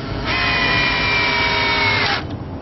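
A power drill whines steadily for about two seconds, driving a screw into wood that was not pre-drilled, then stops abruptly; close and loud.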